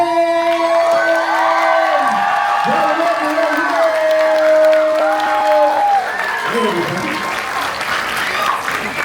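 Fan convention crowd applauding and cheering loudly at Smoky Mountain Fan Fest, with whoops and shouted voices rising over steady clapping, continuous and close throughout.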